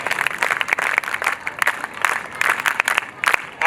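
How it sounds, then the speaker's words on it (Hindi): Children attending a girls' character-building camp convocation in Agra clap for their teacher, a loose, uneven patter of many small hands with distinct sharp claps standing out in bursts. "एक बार आचार्य जी के लिए बच्चे तालियां बजाएंगे।"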